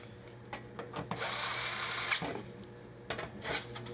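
A power tool snugs small 6mm oil pan bolts on a Lexus LC 500, a close whirring burst lasting about a second followed by a shorter buzz, with light clicks around them.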